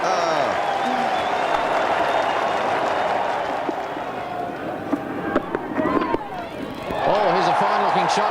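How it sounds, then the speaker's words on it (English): A large cricket crowd cheers and applauds steadily at Lancaster Park during a 1992 World Cup match between New Zealand and Pakistan; the roar dips midway and then swells again, with a commentator talking over it. "the crowd give him an enormous cheer here at Lancaster Park"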